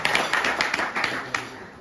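Applause at a golf prize-giving ceremony for a 2022 strokeplay event, with a crowd clapping in a steady patter of sharp claps at moderate distance, continuing throughout with a few louder individual claps standing out.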